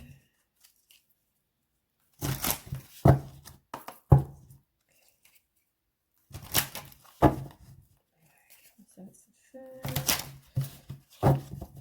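A deck of tarot cards is shuffled quickly up close in a quiet room, in three short bursts of papery riffling and slapping separated by brief silences.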